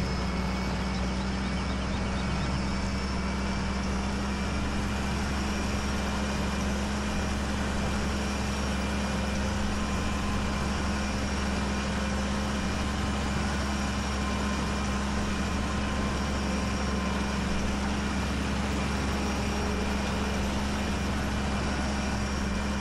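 Tractor engine in Farming Simulator 17, idling at a steady, loud, unbroken drone with a low hum that never changes pitch or rhythm, and no voices.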